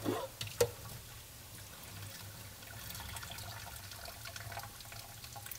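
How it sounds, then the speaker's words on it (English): Cooked cauliflower is drained from a pot with the pan cover held in place, a steady trickle and splash of water running close by for several seconds after a brief clatter at the start, with no talk. "I'm just going to take this over to the stove and drain these just by using the pan cover"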